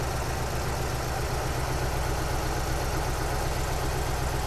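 A Subaru BRZ fitted with a 1UZ V8 idles roughly with a misfire, a steady loud close-up engine drone with an uneven low throb running throughout, no voices.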